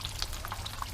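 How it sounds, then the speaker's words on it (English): Continuous crackling sizzle of fish frying in hot oil, with scattered sharp pops and spits, steady and close, no voices. "Yours is sizzling nicely"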